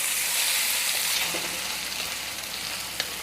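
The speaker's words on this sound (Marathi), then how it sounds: "टोमॅटोसुद्धा मी 2 मिनटं चांगला कांद्यासोबत परतून घेणार आहे" Chopped tomato sautés with onion in a hot pan for a Marathi bombil tava masala, giving a steady, close sizzle and hiss with faint stirring scrapes and no talk.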